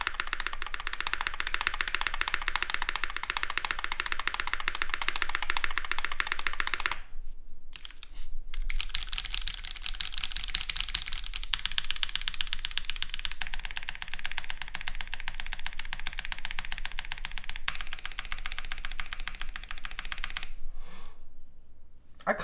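A NEO Element Ultimate G67 mechanical keyboard is typed on in steady bursts of close clacky keystrokes, with brief pauses between runs.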